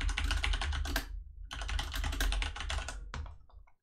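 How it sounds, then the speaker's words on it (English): Fast typing on a computer keyboard picked up by an external Yeti microphone, close and crisp with rapid key clicks in two bursts separated by a short pause. "this is what it sounds like when I type"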